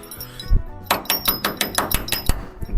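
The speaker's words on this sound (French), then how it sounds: "Regarde, j'arrive plus à remettre la vis maintenant. Marteau." A hammer taps a screw back into place while reassembling a rebuilt car engine, giving a close, rapid run of about ten sharp metallic clinks in a steady rhythm after one or two isolated knocks.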